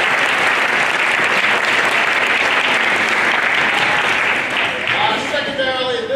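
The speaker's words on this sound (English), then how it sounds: "Yeah, we can applaud for that." Loud, steady applause from a school assembly audience at a math competition event, dense clapping filling the whole stretch and thinning slightly near the end, with a few voices rising through it.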